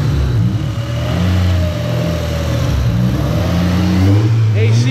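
A swapped-in engine in a Honda Accord, still being tuned for MAP sensor issues, runs with a steady mid-pitched hum at idle, then climbs in pitch as it revs near the end.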